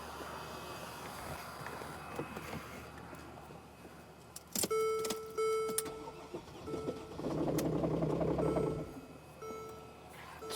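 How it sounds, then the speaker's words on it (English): Mercedes GL350 engine with a crank-no-start fault, cranking twice in bursts after a key click and warning chimes, the starter whirring steadily but the engine never catching, close and loud in a quiet workshop. "I'm going to try to start it again."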